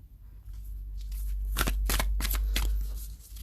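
Tarot cards are shuffled in a few quick riffling bursts, close and fairly loud against a low steady hum, with no voices.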